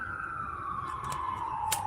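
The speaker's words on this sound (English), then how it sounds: "I heard them sirens" A police siren passes outside as one steady, sustained wail that glides slowly downward in pitch, moderately loud and without speech over it, with a brief sharp clatter near the end.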